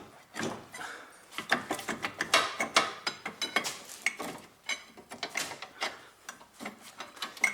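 On a 2004–2011 BMW 1 Series, a front brake caliper piston is pushed back with a tool, giving close, repeated ratcheting mechanical clicks and creaks in a steady uneven rhythm.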